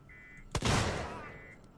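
A single sharp gunshot from a weapon in the sci-fi survival horror game Alien: Isolation cracks out loud and close, trailing into a long noisy decay over faint electronic tones.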